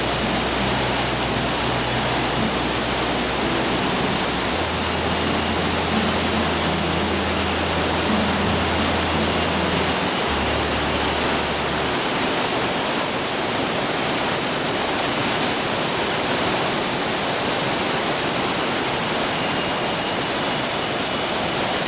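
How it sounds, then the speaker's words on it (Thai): Thi Lo Su waterfall, white water cascading down a high cliff, a loud, steady, unbroken roar of rushing water heard up close. "สายน้ำสีขาวโพลนไหล มาจากหน้าผาสูงชัน"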